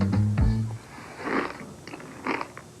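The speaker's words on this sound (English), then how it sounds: "It's lightly frosted, and it's crunchy, so it tastes delicious." Crunching bites of lightly frosted Kellogg's Frosted Bran cereal come through as a few close, crisp chewing bursts after a short spoken phrase at the start.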